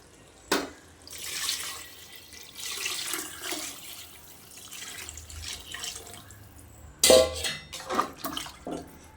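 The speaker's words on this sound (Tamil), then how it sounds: "இப்போ வந்து நம்ம தண்ணி சேர்த்துக்கலாம்" Water splashes and pours in several bursts into a pot of rice for chicken biryani, with faint clinks of cookware between pours.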